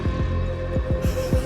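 A deep, throbbing heartbeat from a Honkai: Star Rail cutscene pulses in loud paired thumps over a sustained humming drone, close and heavy, with no voices present.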